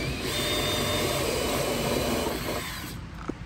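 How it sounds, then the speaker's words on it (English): A power drill bores a hole for the mount of a new Mercury 40 hp four-stroke outboard motor, giving a loud, steady, close whine that cuts off abruptly near the end, followed by a brief knock. "I'm going to start by drilling a hole where I'm going to position this"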